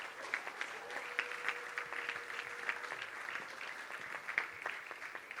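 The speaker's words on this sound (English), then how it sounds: "Let's give them a round of applause." An audience claps at the 2019 National Live Music Awards gala in Perth, a sustained, moderately distant round of applause with scattered sharper claps standing out and a faint held tone underneath.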